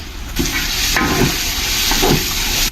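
Sliced onions, about 750 g, fry with 1.5 kg of beef in a pot, giving a loud, steady hissing sizzle with a couple of soft clattering stirs and no voices.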